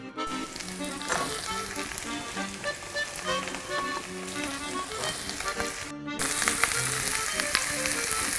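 Leeks sizzle and crackle steadily in hot oil with carrots in a pan, with a brief cut and then a louder, busier frying sound; no one speaks.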